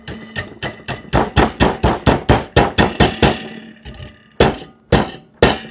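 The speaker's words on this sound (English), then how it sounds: "Hammer that to 90 degrees, break it loose" A hammer strikes a clamped piece of stock, bending it to 90 degrees for an F14 Tomcat model build, in a fast run of about a dozen sharp, loud blows, then a pause and three slower, spaced hits.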